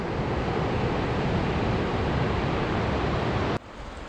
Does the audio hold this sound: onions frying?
no